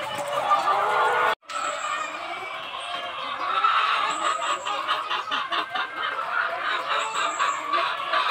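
Egg-laying chickens on a poultry farm cluck and chatter continuously at moderate distance, with a brief cut near the start and a few sharper calls standing out.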